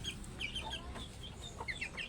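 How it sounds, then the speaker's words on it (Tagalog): Pet native hens of the binabae type cluck and chatter softly in a small group, with scattered short calls over a quiet farmyard background. "Yan po ang aking palahi. Aking alagang manok."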